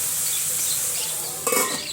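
A pan of food sizzles softly over low heat before a lid is set on top with a brief metallic clatter near the end.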